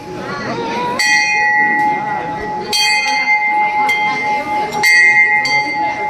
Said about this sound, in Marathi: घंटी वाजवणार आहेस?